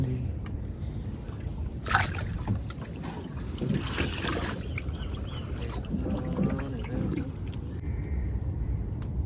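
Water sloshes and churns steadily as a small fishing boat moves along, with splashes and a low hum running throughout at moderate distance.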